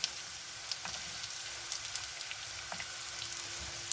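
Cut cabbage sautéing with onions in a pan, a steady frying sizzle close up with light crackles and occasional stirring taps, no voices.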